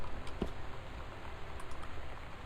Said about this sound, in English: Typewriter now.